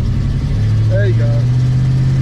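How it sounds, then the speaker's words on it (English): Engine of a 1968 Chevy Camaro misfiring while it idles, a loud steady low hum with a short uneven stumble in the middle, heard close by under a brief voice. "That sounded like a misfire."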